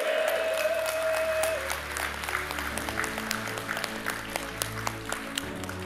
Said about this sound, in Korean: os membros antigos responderam com aplausos de gratidão